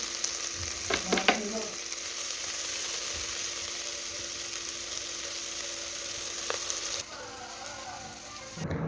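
Masala with turmeric and salt sautéing in hot oil, a steady low sizzle with a few scraping stirs of a spoon near the start and again later, close and continuous.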